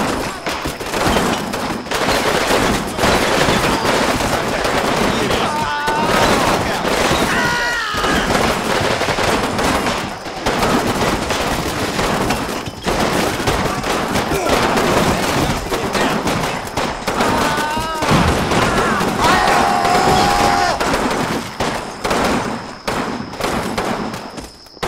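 Suppressive gunfire in the Combat Mission Fortress Italy war game: dense, continuous rifle and machine-gun fire crackles loudly throughout, with occasional whistling tones mixed in.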